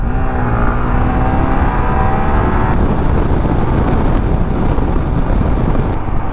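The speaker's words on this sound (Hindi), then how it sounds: "हम सोच रहे हैं बाइक को थोड़ा भगाया जाए भाई।" Motorbike ridden fast along a road, engine whine climbing steadily in pitch before a gear change, then a dense, loud rush of engine and wind noise with no talking.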